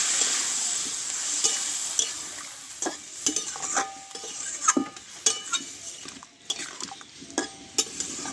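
Mustard-pumpkin curry with drumstick stems cooks in a pan, a steady low simmer with repeated scraping stirs and soft clinks of a spoon against the pan, close and alone.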